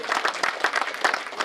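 An audience at a novel launch event claps energetically, giving dense, loud applause with a pulsing, almost rhythmic beat throughout the short stretch.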